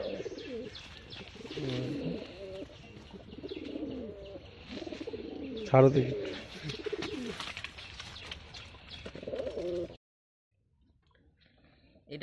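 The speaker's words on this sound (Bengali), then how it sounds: "এটা সাদা ম্যাড্রাস পায়রা।" A white Madras pigeon in a loft coos in repeated soft, rounded bursts at close range, with a brief flutter or scuffle midway, while a person speaks nearby; the sound then drops to near silence.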